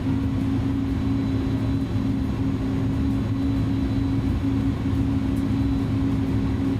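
Cockpit hum of an iniBuilds A310 airliner in Microsoft Flight Simulator: a steady, loud low engine drone with a constant tonal whine running underneath, unchanging throughout, no voices present.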